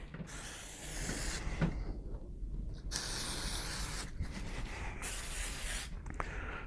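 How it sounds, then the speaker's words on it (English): Revivex water repellent hisses from an aerosol can onto the pocket of an archery quiver in three long sustained bursts, close up and fairly quiet, separated by brief pauses. "We're just going to spray the pocket area here, just so you get a good idea of how it works."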